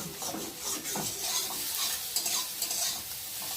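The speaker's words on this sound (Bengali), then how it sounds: "একদম কড়াই লাগবে, খুব সুন্দরভাবে ভাজা হয়ে যাচ্ছে" Soybean chunks frying in oil in a kadai, a steady close sizzle with soft stirring scrapes throughout, no talk.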